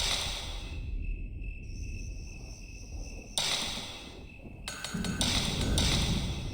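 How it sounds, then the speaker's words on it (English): Crickets chirp steadily in a graveyard scene from the PS2 video game Fatal Frame, a thin high-pitched trill over low ambient rumble, with a couple of sudden louder bursts breaking in partway through. "We've got a combination of crickets and thunder, which is nice"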